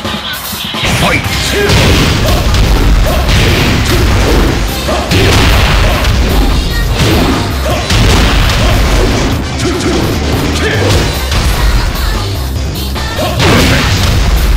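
Heavy punches, kicks and impact booms from a Tekken 8 fight featuring Law pound continuously at high volume, dense and crashing, with occasional game announcer voice breaking through.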